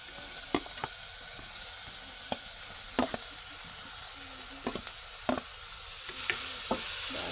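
Fish chilies sizzle in a hot pan along with other ingredients, giving a continuous hissing fry. Sharp scrapes and clinks from stirring break in irregularly, close by and with no talk.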